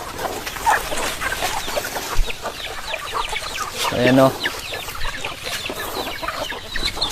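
Free-range chickens on a farm cluck and chatter while being fed, a busy mix of close and scattered clucks, with a louder squawk midway. A person talks intermittently over the flock.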